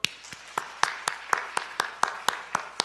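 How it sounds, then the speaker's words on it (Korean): A church congregation at a Korean Holiness church service claps for the YouTube team in sharp, evenly spaced unison beats, about four per second, ringing clearly in the hall. "유튜브 팀 박수."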